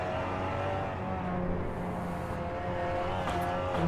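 A touring car in a racing video game drones under steady throttle, its engine note loud and continuous throughout with a faint tire squeal near the end.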